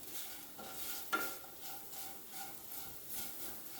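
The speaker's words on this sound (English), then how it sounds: "Let it fry for some time" Bhindi (okra) masala frying in a pan, heard as a quiet, soft sizzle with faint scraping and clinks of stirring, including one sharper metallic tap, steady and low in level.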